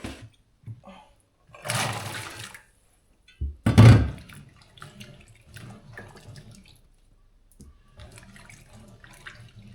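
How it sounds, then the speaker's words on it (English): Fresh water runs from a tap into a container of harvested olives to rinse them, in a couple of splashing bursts between quieter pauses with faint handling noises, close by, under a speaking voice. "I'm just going to fill this up with some fresh water, give them another rinse around, and then re-drain them"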